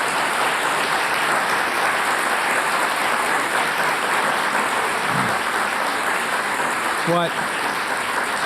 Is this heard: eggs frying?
no